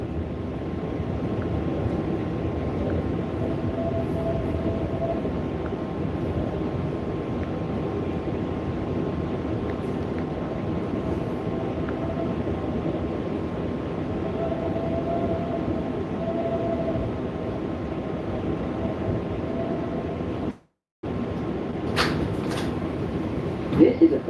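A Flushing Main Street bound New York subway 7 local train rumbles steadily and loudly throughout, with a constant hum, a brief dropout near the end, and announcement-like voice sounds in the mix.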